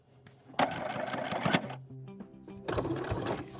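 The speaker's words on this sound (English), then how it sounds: "we're just going to top stitch right over it" A sewing machine top stitches fabric close to the edge, its needle running in a steady mechanical whir that starts, pauses briefly, then resumes, loud and close with no talking.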